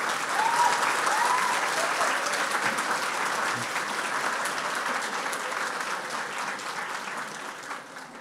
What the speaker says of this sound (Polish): Ja myślę, że tutaj dla Bartka ogromne brawa się należą.